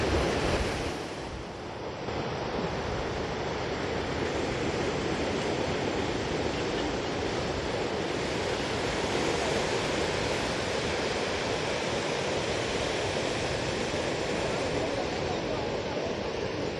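Sea surf rolls onto the beach at Gangasagar where the Ganges meets the sea, a loud, continuous roar of breaking waves mixed with wind buffeting the microphone.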